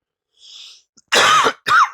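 A faint breathy noise, then two sharp, loud coughs in quick succession, close up.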